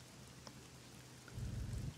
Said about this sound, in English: Oh, it's raining pretty good.